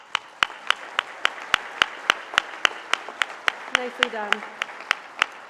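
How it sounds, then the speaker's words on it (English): Sparse, evenly spaced handclaps at a coffee cupping competition awards ceremony, ringing out sharply one after another for about five seconds, with a brief spoken comment partway through. "Another round of applause, Doug."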